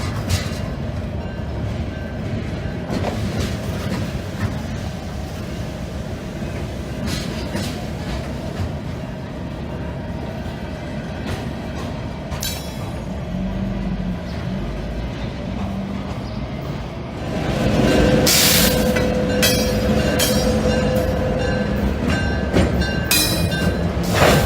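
A DT&I freight train hauling a cut of refrigerated reefer cars rolls past at close range in the early morning in Ironton, a steady rumble of wheels and cars that grows louder toward the end, with no talking.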